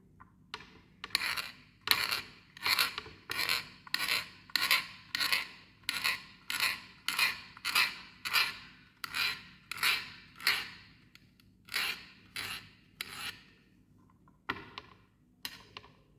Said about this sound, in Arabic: غادي نقطع على هذا الشكل، غادي نقطعها كامله ونرجع لكم